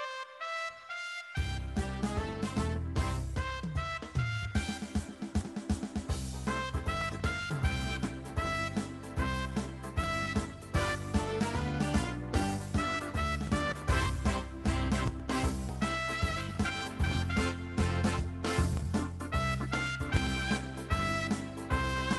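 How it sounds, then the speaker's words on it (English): A music arrangement with fill-ins played over held whole notes, dense full-band instrumental starting after a short pause, with busy melodic runs and steady rhythm throughout, no talking. "So you hear, I was putting in those fill on all the notes that you held."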